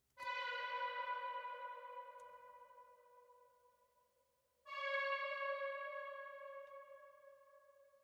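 Two sustained synth notes ring out with heavy reverb, each long tone slowly fading and echoing before the next strikes.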